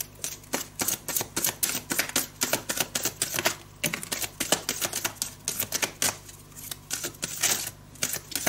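Tarot cards drawn from a deck, a busy close stream of crisp card flicks, slaps and riffles repeating steadily throughout.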